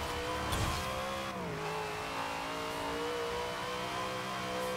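Dodge Charger from Fast and Furious in Forza Horizon 4, its engine revving hard and shifting up through gears, a steady close roar with a short tire chirp near the start and no voices.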